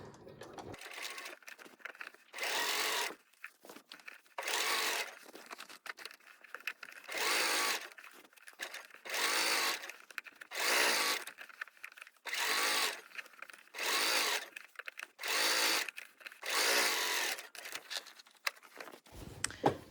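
A sewing machine top stitching jeans runs in about a dozen short, even bursts of fast mechanical stitching, each a second or so long with brief pauses between, close and clear.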